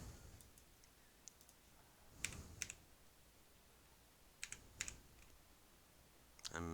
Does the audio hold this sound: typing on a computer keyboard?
yes